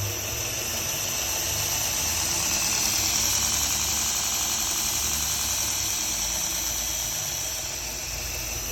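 An electric motor driven through a frequency converter runs at a lever-set speed, a steady, close whirring drone with a bright high whine and no voices.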